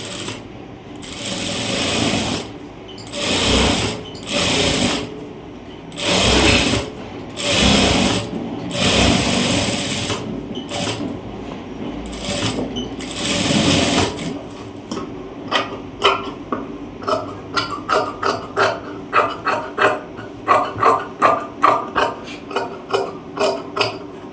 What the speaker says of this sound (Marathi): एकदम खेटून आपल्याला टीप मारायची कॉलरला